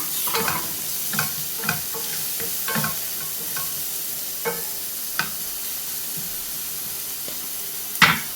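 Chopped onion sautéing in a pan for a homemade chicken curry, a steady soft sizzle under repeated stirring scrapes and occasional light clanks of a spoon, with a louder knock at the end.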